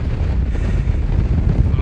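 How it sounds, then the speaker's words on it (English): Strong wind on a pier over the Irish Sea roars and buffets the microphone in a constant, heavy rush, with a voice faintly underneath. "This wind is so bad."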